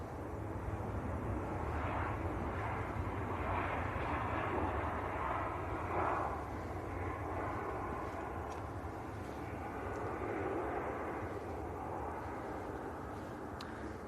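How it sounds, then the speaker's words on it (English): A Ryanair airliner touches down at Manchester Airport, heard as a distant, faint jet roar with low rumble and reverse-thrust wash holding steady throughout. "Ryanair from Grenoble, just touch down"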